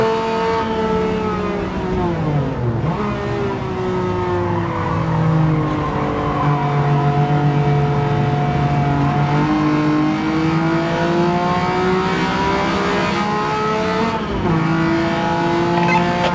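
A race car engine in Gran Turismo 7 revs loudly and continuously, pitch sweeping up and down through gear changes, with brief tire squeal, close and steady throughout.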